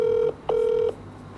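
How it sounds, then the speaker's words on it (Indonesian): Ringback tone on a phone call being placed, two long steady beeps separated by a short pause, clear and loud with no talk. "Sekarang tak telepon ya, oke. Dia masih belum ngangkat."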